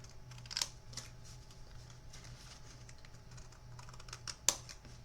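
Scissors trim a small piece of brown paper for a handmade card, with two sharp, faint snips spaced a few seconds apart over a quiet room.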